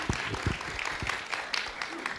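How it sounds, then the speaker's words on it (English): Audience applause at an indoor talk about owls, with a small crowd clapping steadily while a voice speaks over it. "Let's give Colleen one more round of applause."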